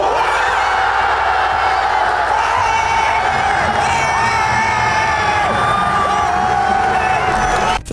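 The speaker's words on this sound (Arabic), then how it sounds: "ضروري تسمع هتافات الجماهير." A dense football stadium crowd roars and cheers continuously during a Ligue 1 match, with whoops and shouted chants layered into a loud, unbroken wall of noise.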